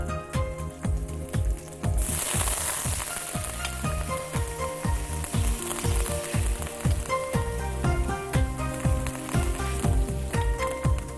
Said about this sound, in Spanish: Ahora vamos a poner varios cucharones de carne.